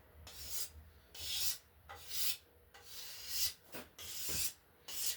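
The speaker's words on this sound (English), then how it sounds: "going really softly and then bringing it in a bit and then easing off on the pressure with that scraper" A hand scraper shaves a laminate longbow limb in repeated strokes, each a short, rasping scrape of roughly half a second, about eight in all at a loose, even rhythm; close and fairly soft, with no talk.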